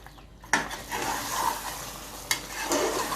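Chicken coconut curry being stirred in a pan, a spoon scraping through thickening sauce with a steady soft sizzle and a couple of sharper knocks against the pan, close and alone.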